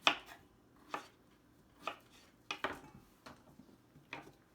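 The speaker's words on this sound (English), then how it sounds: "I cut in quarters and put it right here in this bowl" Knife chopping strawberries into quarters on a cutting board, a handful of sharp separate knocks spaced about a second apart, close but quiet, with no voices.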